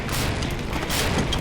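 A single explosion in a special-forces sniper drama: a loud, broadband boom that rolls on as a dense, continuous rumble for about a second and a half, with no voices over it.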